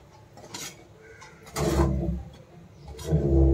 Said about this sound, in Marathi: एकदा परतून घेते, खालवर करून घेते